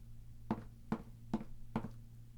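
Four evenly spaced knocks on a door in the video game Danganronpa, crisp and moderately loud over a steady low background hum, with no talking.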